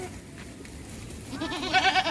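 A goat bleats briefly near the end, a short wavering cry rising over faint background noise.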